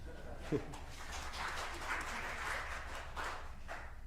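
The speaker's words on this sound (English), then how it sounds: "Feel free to give yourselves a round of applause, truly." A church congregation applauds in a soft, steady patter of clapping, heard from some distance with a faint murmur of voices.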